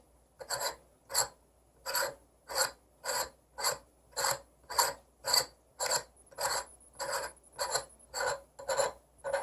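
Eyepiece being screwed by hand into the threaded back of a Vixen A80MF refractor telescope, giving about fifteen close, evenly spaced scraping turns in a steady rhythm with no talk.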